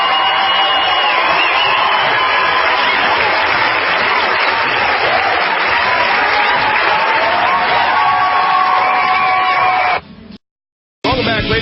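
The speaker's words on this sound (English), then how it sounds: "Let's give him a round of applause, ladies and gentlemen" Studio audience applause with cheering on a live health talk show, a dense, loud, steady roar of clapping lasting about ten seconds before cutting off abruptly.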